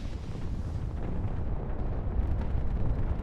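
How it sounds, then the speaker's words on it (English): Rocket artillery from BM-21 launchers firing and detonating in the war strategy game WARNO, a dense continuous roar of overlapping blasts and rumble that swells slightly toward the end, with no voices. "look at this area with the BM-21s just being brutal. They're still firing in this base."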